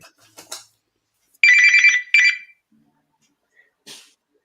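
A phone rings in a talk-show studio during a health program with two short, bright electronic ring bursts close by. Faint brief knocks come before and after.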